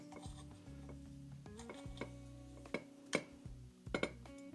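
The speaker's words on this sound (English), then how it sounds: "We'll cinch these bolts down." Close mechanical clicking and clinking of a hand ratchet tightening bolts on a Volvo redblock engine, with irregular bursts of ratcheting and sharp metallic clinks, steady and near.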